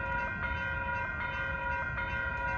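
A Caltrain San Jose local train passes trackside, a steady loud rumble of rail wheels with a sustained tonal ring over it, heard close and continuous throughout.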